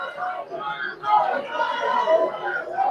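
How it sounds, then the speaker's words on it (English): A crowd cheers outside a courthouse after a jury's guilty verdict in the Ahmaud Arbery murder trial, a steady mass of voices and shouts filling the whole stretch. "people are cheering right now"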